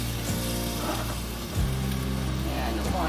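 Tomatoes sizzling in a hot pan over medium-low heat, a loud continuous frying hiss with a clunk partway through, close and steady with no talking.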